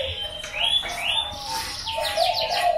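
A perkutut, or zebra dove, calls in short chirping and cooing phrases over a steady outdoor background, fairly close and moderately loud.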